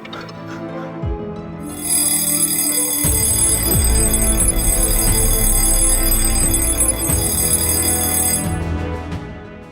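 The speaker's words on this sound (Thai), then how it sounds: "โทรศัพท์เก่าตอนสมัยเรียนนี่" An old mobile phone from school days rings loud and close, a bright continuous electronic ringtone that holds for several seconds before cutting off.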